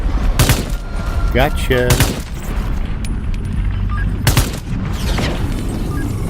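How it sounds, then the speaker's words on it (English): Gunfire in the VR shooter Into the Radius 2, with several sharp, loud shots in short bursts over steady game ambience, and someone speaking briefly between them. "it's the gunfire."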